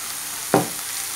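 Squid pieces tossed with onion and ginger in a pan for a coconut stir fry give one short scraping sizzle, a single sharp stir stroke rising out of a steady background hiss.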